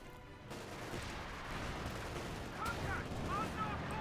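Company of Heroes 2 battle gunfire, with rolling bursts and distant booms forming a continuous rumbling bed, plus a few short whistling tones near the end, all under a commentator's talk.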